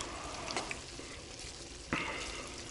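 A borscht vegetable base sizzles and crackles in a hot pan, a steady frying hiss with a couple of sharp stirring scrapes, close and fairly quiet, in a tent on a frozen lake.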